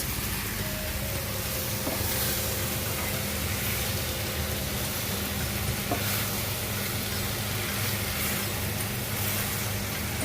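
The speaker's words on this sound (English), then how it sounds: "Black beans and sweet corn. And then we give it a little stir." Black beans and sweet corn sizzle in a hot pan while being stirred, a dense, steady frying hiss heard close up, with faint scraping and no talking.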